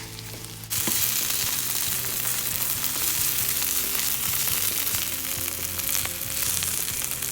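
Chopped onion fries and browns in a pan, a steady close sizzle that starts loud after a brief quieter moment and continues with light stirring clicks throughout.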